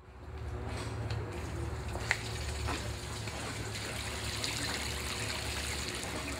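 Water pours and trickles steadily from a 375-pound pump run on solar power, a continuous gushing stream with small splashes, moderately loud and close, with no talk.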